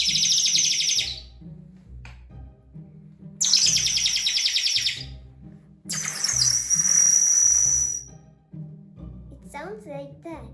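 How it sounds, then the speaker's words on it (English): An antique water-filled tin bird whistle, a penny toy, is blown in three long, loud, close bursts of warbling, chirping trills, with someone speaking between the bursts. "We are going to see water-filled bird whistles. One is the chirping bird."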